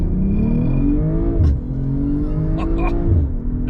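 A BMW M340 launches hard with its traction control off and accelerates toward 60 mph. The engine gives a loud, rising roar that climbs through the revs, with brief dips at the gear changes.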